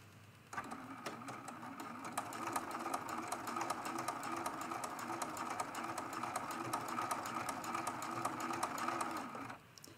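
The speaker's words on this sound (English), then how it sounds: "And now we're stitching again" A sewing machine stitches fabric for a quilted cathedral window ornament, running steadily and close for about nine seconds with a fast, even mechanical whir that starts and stops abruptly.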